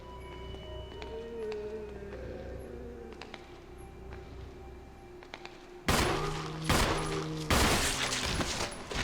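Gunshots at a zombie in Resident Evil HD Remastered, a few sharp loud bangs that break in abruptly after a quieter stretch of ambient tones, heard with no talking.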